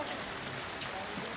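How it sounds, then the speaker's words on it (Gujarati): Steady rain pours down in an outdoor setting, a dense broadband hiss of drops striking surfaces that runs unbroken and fairly loud throughout. "વરસાદ ચાલુ છે."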